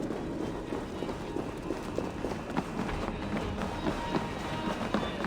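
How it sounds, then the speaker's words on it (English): Footsteps in Assassin's Creed Valhalla: a steady run of heavy, rhythmic thuds like many feet or hooves pounding close by, continuous across the clip with no talk. "That sound. Is it thunder? Footsteps."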